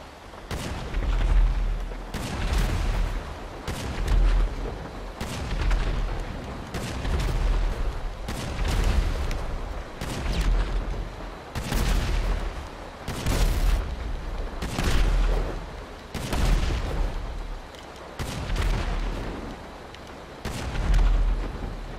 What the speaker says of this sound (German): Jetzt macht er meinen Panzer kaputt